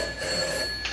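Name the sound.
telephone ringing, radio drama sound effect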